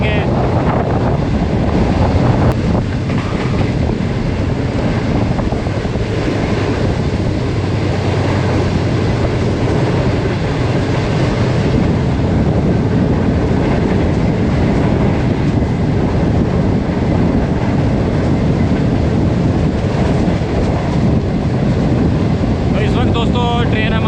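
Shalimar Express train running through an abandoned railway station between Lahore and Karachi: steady, loud broadband rumble and rattle of the moving train with wind buffeting throughout, continuous for the whole stretch.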